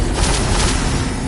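Confringo and Bombarda spells explode in the Hogwarts Legacy video game, a continuous loud, dense roar of blasts and rumble with no clear gaps between them.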